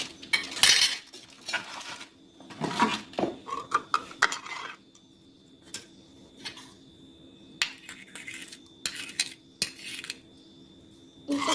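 A spoon stirs fruit chaat with chaat masala in a bowl, with repeated metallic clinks and scrapes arriving in irregular bursts and short pauses, close and fairly clear with no voices.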